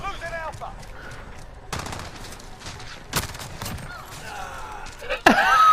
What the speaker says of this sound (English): That's the shotgun I was telling you about.